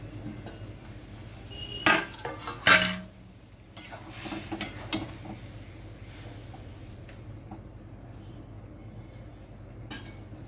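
A metal spatula knocks and scrapes against a cooking pot during stirring while a curry cooks, a few sharp clinks early on and then quieter faint rustling with a last light tap.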